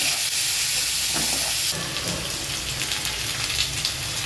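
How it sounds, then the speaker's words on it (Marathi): Chopped onion sautéing in hot oil until reddish, a steady close sizzle and crackle that grows brighter partway through as stirring stirs up the pan. "कांदा परतून घ्यायचा आहे कांदा चांगला लाल होईपर्यंत"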